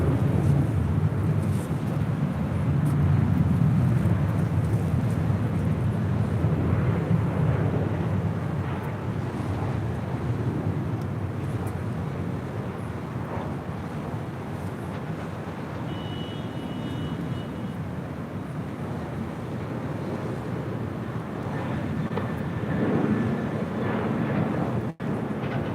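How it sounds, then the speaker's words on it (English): A United Boeing 787-9 Dreamliner bound for London departs runway 25 right at LAX, a broad, steady jet roar heard from a distance that slowly rises and falls over the whole stretch, with no talk. "We do have a United Dreamliner heading to London, flight 231."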